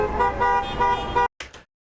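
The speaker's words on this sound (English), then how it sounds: "and it's just cars honking." Car horns honk over a compressed, blaring street track, a dense sustained blast of layered horns for over a second, then sudden silence and two short clipped honks.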